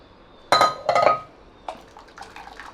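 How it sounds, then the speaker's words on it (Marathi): Boiled chickpeas are strained of their cooking water: two sharp, close clinks of a metal pot and strainer, followed by softer scattered taps and a light trickle. "हे पाणी आता आपल्याला नको आहे त्यामुळे आपण हे गाळून घ्यायचं"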